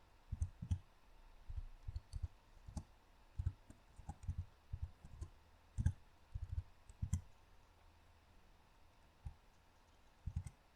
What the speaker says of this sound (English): So let's just type some random stuff